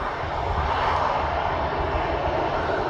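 A Ryanair airliner's jet engines roar loudly and steadily at close range as it turns onto the active runway at East Midlands Airport.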